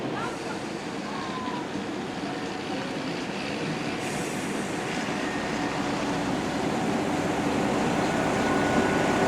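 A train rumbles steadily nearby with a broad roar and faint metallic squeals, growing slightly louder as it rolls into a station on the Snow Hill Lines, bound for Worcester Foregate Street.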